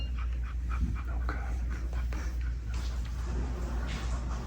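A puppy pants steadily and close by, quick rhythmic breaths over a low constant hum, with no one speaking.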